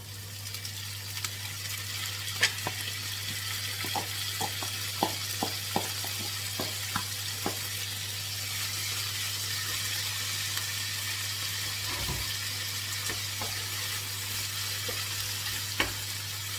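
Braised tofu sizzles and fries steadily in a pan for a Caribbean tofu aloo pie filling, with a series of sharp scraping knocks as it is stirred and broken up.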